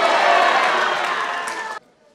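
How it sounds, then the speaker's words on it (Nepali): A church congregation at a Nepali holy assembly claps in thanks, a dense, loud burst of applause with faint cheering that cuts off abruptly after about two seconds. "हामी ताली बजाएर धन्यवाद दिनेछौँ"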